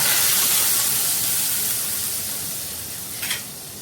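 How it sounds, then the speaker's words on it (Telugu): Steady loud sizzling of tempering spices dropped into hot oil, a dense hiss that slowly fades, with a brief sharper spit near the end. "తాలింపు పెట్టేటప్పుడు తాలింపు సౌండ్ ఉంటుందండి బాబు చర్రమని సౌండ్ వచ్చేస్తుంది"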